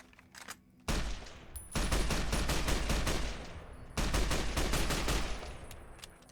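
Bursts of marksman carbine fire in Fallout New Vegas (Tale of Two Wastelands), two long loud volleys of rapid shots with a short gap between them, close and sharp, with no talking.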